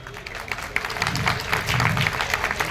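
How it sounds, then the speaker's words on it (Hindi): Crowd at a railway project event claps steadily, a dense patter of many hands sustained throughout, moderately loud and fairly close, with some voices mixed in. "तालियों में कमी हो रही है"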